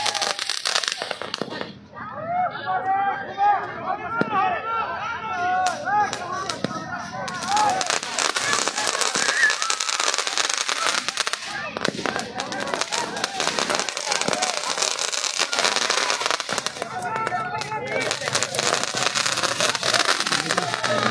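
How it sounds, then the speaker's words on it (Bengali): Many daytime fireworks crackle and pop in dense, continuous bursts at a cricket tournament celebration; a voice comments over the noise for much of the time, and the crackling swells again toward the end. "অনেকগুলো আতশবাজি ফুটছে, সেই দৃশ্য কিন্তু আমরা দেখাচ্ছি আপনাদেরকে"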